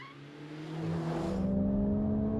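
Toyota Supra at speed on a lap of the Bryant Park hill climb circuit, its engine note climbing steadily under load with strong harmonic tones, loud and continuous, no voices.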